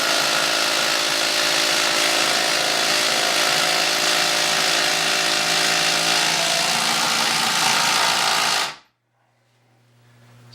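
A Ryobi brushless impact driver on a slim 2 amp hour battery drives a fastener with a loud, sustained hammering whine for about nine seconds, then stalls and cuts off abruptly into near silence.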